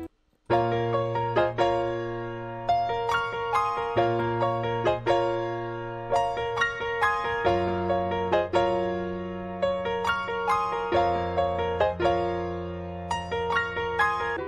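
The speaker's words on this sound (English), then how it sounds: "I came up with this piano melody" A piano melody made in FL Studio plays alone, struck chords and single notes in a steady rhythm, each note ringing and fading, clear and close.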